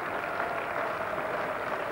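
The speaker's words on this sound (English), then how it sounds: "crowd, relieved applause almost." Crowd applause at a Headingley Test match between England and West Indies, a steady, even wash of clapping from a large crowd with no distinct voices standing out.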